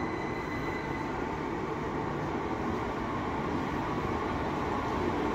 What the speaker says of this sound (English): And this is our train.